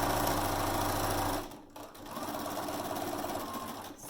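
A sewing machine runs fast and close while stitching the lining of a mermaid tote bag, pausing briefly and then continuing at a slightly lower level.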